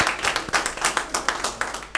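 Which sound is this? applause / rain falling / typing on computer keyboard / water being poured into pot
applause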